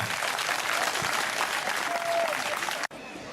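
Students applaud the guest of honour at a school cultural day, a loud dense wash of clapping from a crowd that holds steady, breaks off sharply, then resumes more faintly.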